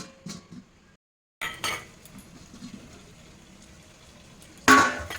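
Bowl of marinated chicken being covered: a few soft kitchen clatters, a brief silence, then scraping handling noises and a sharp closing clink of dish and lid at the end.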